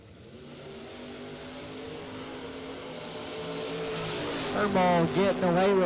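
A first-generation Camaro launches at a drag strip, its engine building from a steady rumble into a hard, loud rev toward the end, with a race announcer talking over it throughout.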